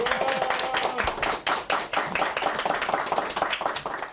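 An audience claps loudly in a press room, with brisk, dense applause running throughout and a few louder bursts.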